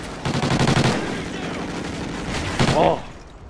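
Gunfire in the Warhawk video game, a loud rapid automatic burst near the start and another short burst near the end, with brief speech between.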